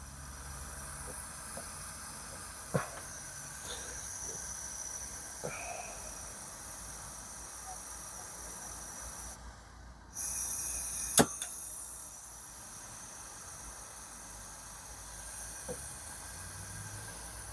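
Kovar K-202 camping gas stove burner gives a faint, steady hiss throughout, with a few sharp clicks and a brief louder rush near the middle.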